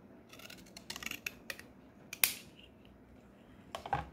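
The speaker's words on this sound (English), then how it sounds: "I cut this off. And then I cut them in half." Scissors snipping through a paper jewelry tag card, a series of short, crisp close-up cuts spaced irregularly, with a few louder snips, and no talking.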